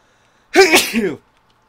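A single loud sneeze from a Project Zomboid video game character, close and sharp, with a breathy buildup and a quick burst, then silence.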